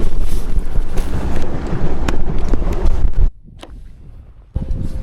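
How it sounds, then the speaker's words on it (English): Strong wind on Pickwick Lake during a bass fishing tournament buffets the microphone with a loud, rushing roar for about three seconds, drops to a quieter lull, then gusts back in. "Kind of windy now."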